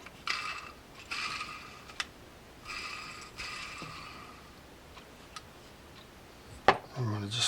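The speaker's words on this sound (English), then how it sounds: "Spin the spool." Spool of a Newell S229 saltwater fishing reel spinning after servicing, a soft whirring mechanical rattle in several short runs with a few sharp clicks, a voice briefly in the background.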